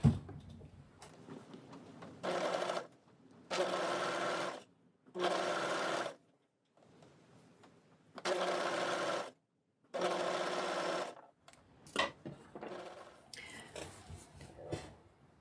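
An overlocker sewing elastic onto fabric runs in four distinct bursts of steady, loud mechanical whirring separated by pauses, followed by softer clicks and handling noises near the end.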